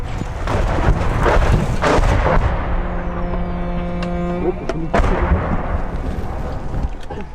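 Rockets and artillery shells explode around Ukrainian troops in trenches in a war setting. Loud, close blasts and rumbling booms pile up, with sharp cracks near the start and again near the five-second mark over a continuous roar.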